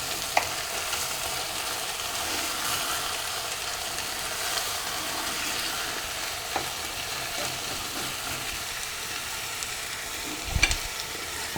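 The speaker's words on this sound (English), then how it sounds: "I let it simmer." Okra stew simmering and frying in a pan, a steady soft sizzle and bubbling running the whole time with a couple of faint clinks.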